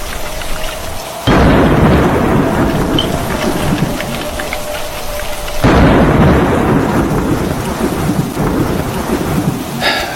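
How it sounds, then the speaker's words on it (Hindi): Heavy rain pours down as booming thunder rolls in twice, each crack swelling into a long loud rumble over the constant hiss of the downpour. "ये बारिश रुकने का नाम ही नहीं ले रही।"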